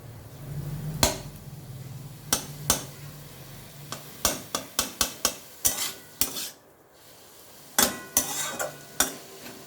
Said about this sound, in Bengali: আমার শাক ভাজাটা হয়ে গেছে।